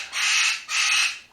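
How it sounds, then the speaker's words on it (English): A pet bird squawks loudly in two long, harsh bursts, each about half a second, close and alone with no talk. "my bird's about to lose his mind"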